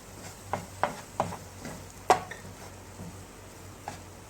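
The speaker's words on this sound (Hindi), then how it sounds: "अब मैं इसमें सब्जियां डालूंगी" Vegetables sautéing with spices in a pan on a tawa, a low sizzle under a series of sharp spatula taps and scrapes, one louder clack midway, close up with no talking.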